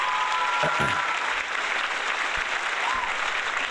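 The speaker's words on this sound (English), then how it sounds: "Give me some more applause" A crowd claps steadily, a dense, continuous wash of applause with a few faint calls and whistles mixed in.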